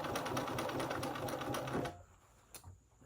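A sewing machine runs a steady, rapid stitch while sewing a sleeve, then stops partway through, leaving a quiet gap with a couple of faint clicks.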